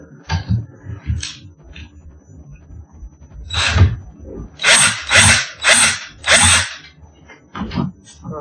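A power drill drives screws into a wooden indoor climbing dome, several short whirring bursts with a run of four strong, close pulses in the middle, separated by quiet handling noises.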